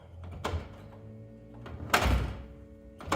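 A 1949 Ford's car door latch catches with two distinct clicking thunks a second or so apart, close by in a quiet space, with a third starting at the end; the door panel is off.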